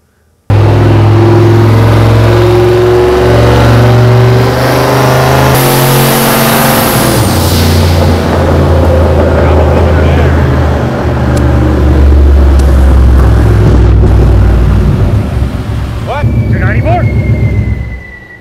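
The V8 turbo engine in a converted Honda car roars loudly on a test run, holding a sustained rev for many seconds before it cuts off abruptly at the end.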